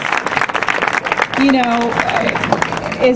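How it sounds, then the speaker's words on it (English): Applause from an audience at a university opening ceremony rises and continues, mixed with voices and a few brief vocal calls over the clapping. "I want all of you to give him an applause"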